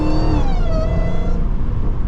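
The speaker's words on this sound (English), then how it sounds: "The whine is insane on this thing." A Hellcat Charger in highway traffic gives off a loud, steady engine roar with a rising, sliding supercharger whine, heard from inside the car throughout and easing slightly toward the end.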